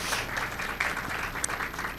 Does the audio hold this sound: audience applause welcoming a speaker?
yes